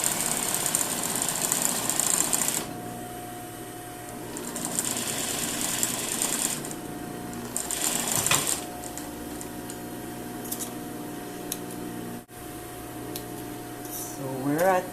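A sewing machine stitches the corner of a lined jacket, its motor running in close, whirring bursts separated by short pauses, with a light clunk partway through.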